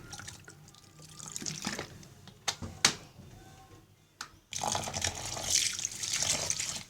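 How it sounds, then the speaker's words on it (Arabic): Water splashes and drips in a pot as vegetables are stirred and rinsed, with a few sharp clinks, then a steady louder swish of running water. "بتحطي فيها الخضره عشان تغسليها كويس جدا"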